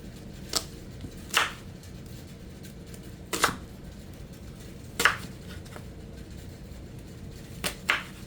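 Separate knife chops on a cutting board, cutting ingredients for a green bean, sausage and potato casserole, about six sharp hits at uneven intervals over a quiet background.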